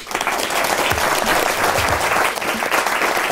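An audience claps loudly and steadily in a continuous wash of applause, with faint low voices beneath.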